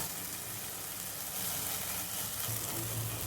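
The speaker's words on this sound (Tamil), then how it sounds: "இதையும் போட்டு நல்லா வதக்கிக்கலாம்" Tomato sautéing in a pan for a lentil-dumpling buttermilk curry, a continuous loud sizzle and crackle of frying with occasional stirring.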